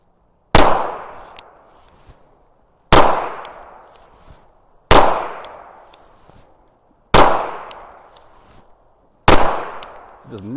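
Five loud pistol shots ring out at a shooting range, evenly spaced about two seconds apart, each a sharp crack with a short decaying echo.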